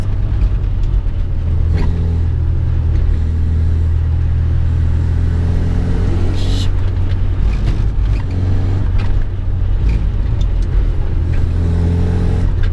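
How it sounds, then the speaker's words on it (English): A 1991 Rover Mini Cooper engine idles roughly from a carburetor needing tuning, a low, steady rumble that wavers unevenly, close and loud, running continuously without talking. "carburetor needs some tuning, the idling is not great."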